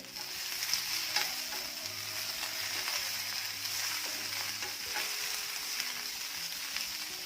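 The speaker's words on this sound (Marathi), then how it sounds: "मध्यम आचेवर भेंडी सगळ्या बाजूने छान अशी भाजून घ्यायची आहे।" Okra (bhindi) sizzles steadily in a pan over medium heat, with a constant broadband frying hiss and occasional soft scrapes as it is stirred, close and fairly even throughout.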